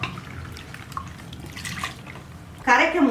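Water is poured into a mixer jar holding instant idli mix powder: a close, loud splashing gush starts abruptly near the end after a quieter stretch with a voice talking.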